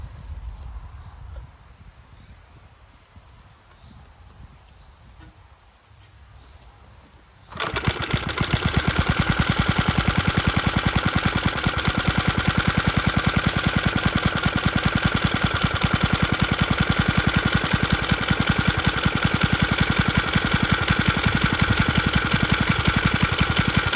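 A restored 1955 Suffolk Iron Foundry Model 1A small engine, stone cold and on three-quarter choke, is quiet for several seconds, then fires and settles into a loud, fast, steady running chatter close by.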